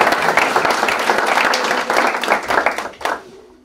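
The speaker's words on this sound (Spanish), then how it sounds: "Les damos un aplauso, por favor." Audience applause at a marketing presentation event, many people clapping in a lively uneven burst that swells, then thins out and cuts off near the end, leaving a brief quiet tail.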